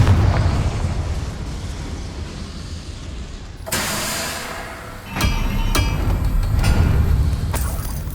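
Confringo fire-spell explosions in Hogwarts Legacy, heard as a loud burst followed by several sharp cracks and booms over a constant rumbling game backdrop.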